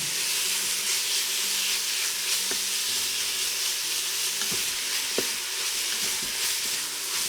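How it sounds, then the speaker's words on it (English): Beef and onions sauté in a pan set inside a pressure cooker, a constant bright sizzle with a few scraping stirs and faint clinks, no talking. "Just sauteing everything up, give it a nice little mixy mix."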